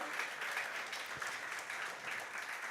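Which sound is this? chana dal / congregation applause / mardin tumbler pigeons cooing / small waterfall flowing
congregation applause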